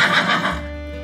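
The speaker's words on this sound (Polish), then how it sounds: "Ten odgłos nazywamy rżeniem." A horse on a farm gives one loud, close whinny that trembles and then fades into a lower tail.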